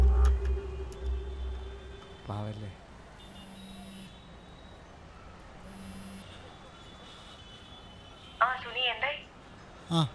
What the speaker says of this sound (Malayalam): ആരാ ഫോൺ ഇങ്ങനെ?